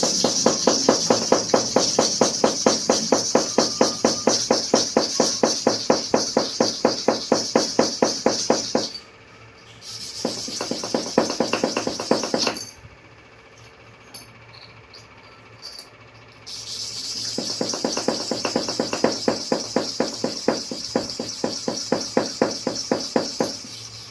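A clipper blade is rubbed back and forth on a sharpening stone in fast, regular gritty strokes that stop briefly, fall to a quiet stretch, then pick up again.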